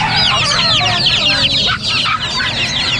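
Aseel (asil) chickens at a busy pet market cluck and chatter nonstop, many birds close by at once in a loud, dense chorus.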